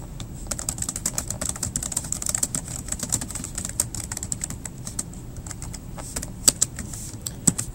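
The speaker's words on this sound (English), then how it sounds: "So I typed in the title." Rapid, light clicks of typing on a computer keyboard patter steadily and close up, a few keystrokes landing louder than the rest, with no one speaking.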